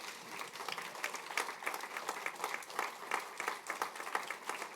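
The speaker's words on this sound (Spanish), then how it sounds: "dale un fuerte aplauso a Jesús" Applause from a church congregation during a sermon, a faint, steady patter of many hands clapping that rises and falls slightly over nearly five seconds with no voices over it.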